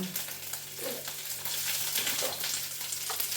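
Dried coconut pieces and dried red chillies fry in a pan with a dense, steady crackling sizzle, quiet but continuous and close, with no voices.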